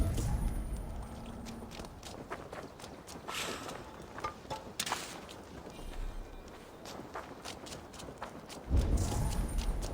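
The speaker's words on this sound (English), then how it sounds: "Now to deliver Magni his horse" Horse hooves clip-clop at a steady walking rhythm in the video game Assassin's Creed Valhalla, moderately loud and up close, with a heavier thump near the end.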